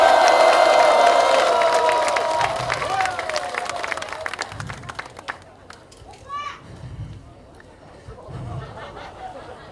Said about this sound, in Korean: 우리 모두가 서로를 격려하고 응원하는 큰 함성과 박수로